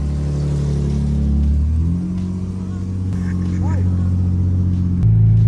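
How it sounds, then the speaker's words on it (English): A Nissan 350Z idles with a steady low engine rumble, its pitch shifting as the revs change, and the idle steps up again near the end; people talk close by throughout. "I don't remember the last time I started this car."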